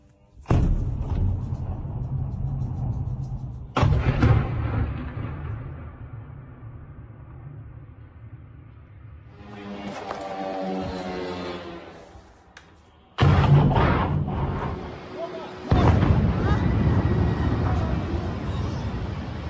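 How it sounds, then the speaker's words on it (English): Several heavy booming blasts from a drone attack in the Moscow region, each a sudden loud broadband burst that lingers and rumbles, spaced several seconds apart amid low background noise and faint voices. "you're going to see lots of explosions inside of Moscow region as well"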